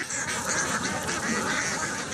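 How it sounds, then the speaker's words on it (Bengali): A flock of Campbell ducks on a farm quacking continuously and fairly loudly, many overlapping calls forming a dense, busy chorus with no pauses. "বেড়েছে ক্যাম্বেল জাতের হাঁস পালন"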